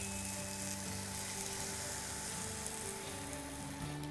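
Eggs frying in a pan over tomato and onion masala give a steady, soft crackling sizzle that runs evenly throughout, faint and unbroken with no voices.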